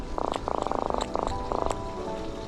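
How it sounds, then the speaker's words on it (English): Croaker fish caught as bait while snook fishing at a Florida dock give a series of rapid buzzing croaks in short bursts, close and fairly loud, ending in quieter background. "They're notorious for making that croaking noise."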